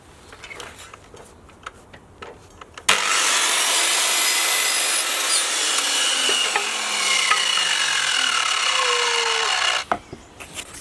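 A jigsaw cuts through wooden cladding in one loud, steady run of about seven seconds, its buzzing whine shifting in pitch as the blade moves, with quieter handling noises before and after.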